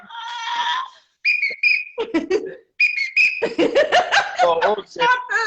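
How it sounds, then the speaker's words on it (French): A hand-held whistle is blown in short, shrill tones amid lively French-speaking family voices and laughter, the whistle bursts sounding close and alternating with chatter and chuckles. "Attendez mon sifflet."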